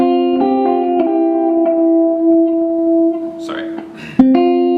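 Electric guitar plays the lead line lick from a song through effects, sustained notes picked in a steady line with a few brief noisy scrapes near the end.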